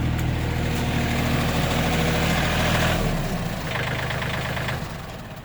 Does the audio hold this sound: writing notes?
no